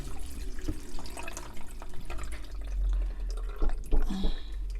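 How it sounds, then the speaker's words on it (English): Water poured into a blender while making a green fertility juice, with a dripping, trickling pour and splashy liquid sounds that run steadily over a low background hum. "I'm going to add some water"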